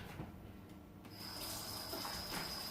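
A little water poured into the bottom of a baking pan holding stuffed peppers, a faint steady splashing stream that grows slightly fuller, heard close and alone.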